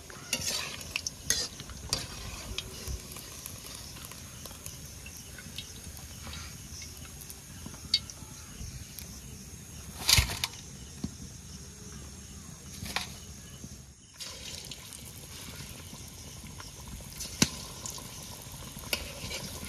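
Egg and onion fritters frying in hot oil, a steady crackling sizzle throughout with occasional scraping stirs and clinks, no talking.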